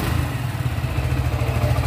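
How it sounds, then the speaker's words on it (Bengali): A Suzuki Gixxer motorcycle engine runs steadily at idle just after starting, a close, loud low rumble with a fast, even throb and light mechanical clatter. "এখন আমরা বাইকটা স্টার্ট দিয়ে আপনাদেরকে সাউন্ড শুনিয়ে দেবো।"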